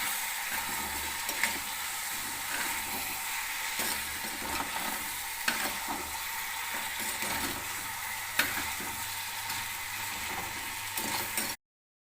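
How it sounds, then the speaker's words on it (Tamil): Brinjal sautés in oil in a clay pot, making a continuous close sizzle with occasional stirring scrapes and soft clicks across the whole stretch. "இப்போ வந்து கத்திரிக்காய் நல்லா வதங்க ஆரம்பிச்சிருச்சு"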